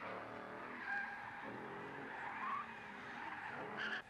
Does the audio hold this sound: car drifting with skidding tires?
yes